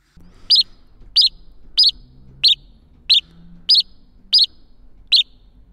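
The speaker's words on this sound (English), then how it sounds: "how to synthesize a house sparrow sound from scratch" A synthesized house sparrow chirp repeats eight times in a steady, evenly spaced series, sharp and close, over a faint low hum.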